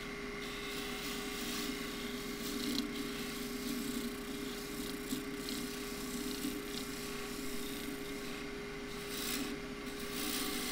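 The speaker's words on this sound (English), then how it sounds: "I'll do that with the scraper." A scraper shears wood on a lathe while a Christmas bell is turned, a steady faint whirring hum with a constant motor tone and soft rasping contact, running continuously throughout.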